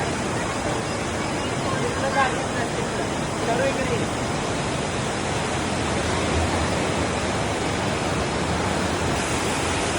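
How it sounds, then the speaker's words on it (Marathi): Dense, unbroken roar of the fast-flowing Aare river in Switzerland, loud and close, with faint voices mixed into the wash of noise. "पहा तिथं एक पाण्याचा प्रवाह अगदी प्रेशरनं"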